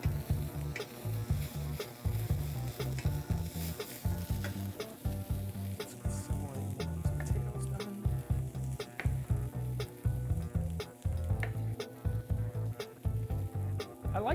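Vegetables and small potatoes browning in a frying pan give a loud, close, continuous sizzle, broken by repeated scraping and stirring clatter as they are moved around; nobody speaks.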